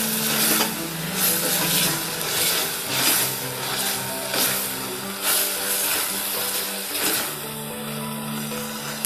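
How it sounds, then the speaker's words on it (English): Chopped tomatoes cook with cauliflower in a pan for spicy gobi fry, giving a steady close sizzle with repeated scraping stirs of a spoon against the pan. "Now we'll add the chopped tomatoes."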